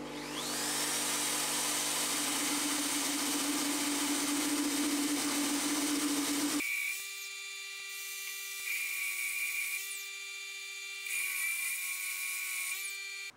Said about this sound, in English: I've now chucked it up in my drill and I'm going to spin it against the grinder to get the barrel nice and circular